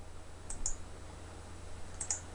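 A few keys are struck on a computer keyboard, four quiet clicks in two close pairs about a second and a half apart, over a low background hum.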